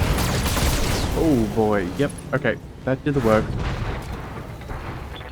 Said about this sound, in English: That Gauss cannon is mean.